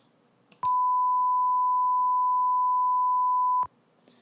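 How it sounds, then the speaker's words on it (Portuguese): A pure sine-wave test tone sounds as a steady, loud beep for about three seconds, with no reverberation, framed by faint clicks at its start and end. "vamos escutar o seno antes da reverberação, antes da convolução com a resposta ao impulso"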